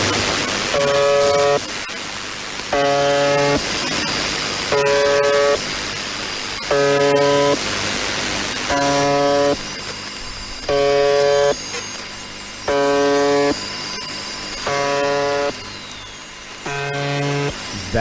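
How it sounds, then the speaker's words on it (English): A repeating buzz from a shortwave number station known as the Buzzer, broadcasting since 1976: harsh, steady buzzer tones sound in evenly spaced bursts about every 2.5 seconds, loud and clear over constant radio static. "Let's listen to the buzzer real fast."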